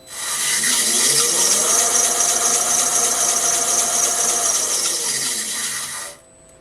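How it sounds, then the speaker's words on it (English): Worn drive belt on the three-step pulley of a Oneway 2436 wood lathe, running as a steady loud whir with a faint rising tone, then cutting off near the end as the machine stops. "I let you hear the noise that I have from the belt"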